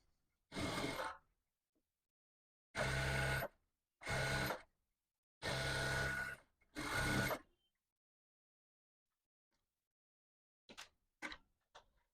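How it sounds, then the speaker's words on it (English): A sewing machine stitching the side seams of a six-piece jacket runs in five short, steady bursts separated by silence, followed by a few brief, quieter whirs near the end. "so I'll be sewing the side seams."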